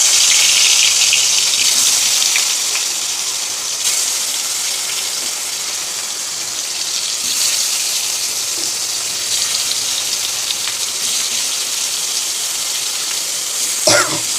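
Steady, loud sizzling of pointed gourd coated in salt and turmeric frying in a wok, a continuous crackling hiss with a sharp clatter near the end.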